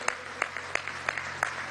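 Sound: applause for National Guard aspirants

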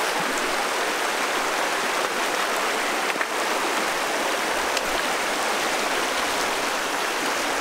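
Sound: stream rapids flowing over rocks

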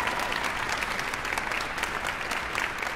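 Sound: audience applause

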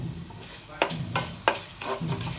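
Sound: roasting fenugreek and coriander seeds in oil in a pan

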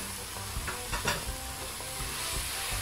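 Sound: minced pork stir-frying in fried curry paste

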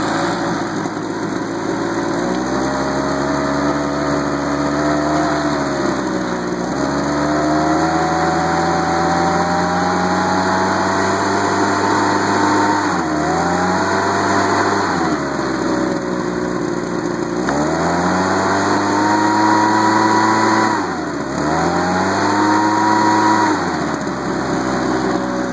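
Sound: Homelite two-stroke leaf blower running

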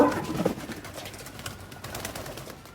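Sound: pigeons

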